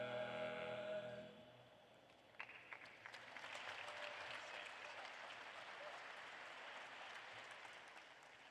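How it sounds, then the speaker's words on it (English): Applause from a commencement audience rises after a sung passage fades and holds steady as a broad, dense wash of clapping across the hall, moderately loud and sustained to the end. "Let's give them another round of applause."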